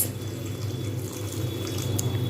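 Water is poured into a pot of papaya and potato curry, a steady close wash of liquid sound over a low kitchen hum, with no talking.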